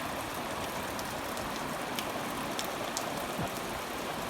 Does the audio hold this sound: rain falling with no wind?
yes